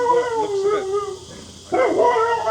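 A dog howls and yips in long wavering cries, rising and falling with a brief gap and then resuming, prominent and fairly near, with faint talk underneath.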